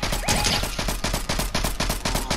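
Rapid video game gunfire from a squads battle royale match, with dense repeated shots that form loud, continuous bursts across the whole stretch and no talking over them.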